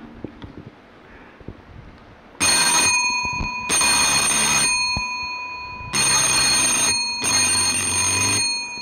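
A telephone rings in loud repeated bursts, four long rings with short gaps between them, following a stretch of quiet room tone.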